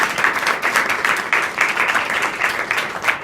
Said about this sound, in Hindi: एक स्पेशल ताली बजानी चाहिए